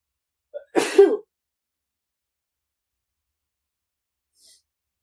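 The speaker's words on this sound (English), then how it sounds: "I'm about to sneeze." A single short sneeze bursts out near the mic, followed by silence and a faint breath later.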